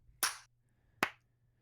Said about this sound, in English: We're gonna do the clap sync.